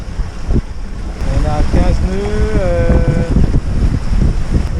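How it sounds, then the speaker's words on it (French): Wind rushes steadily over a sailboat crossing at sea from Taormina, Sicily toward Bova, a loud broad roar with buffeting on the microphone; someone speaks briefly over it. "le vent attendu est là"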